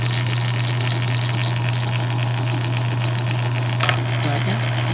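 A restored 1915 Harley-Davidson transmission runs with a steady droning whine and faint mechanical chatter, close and continuous, with one brief click near the end.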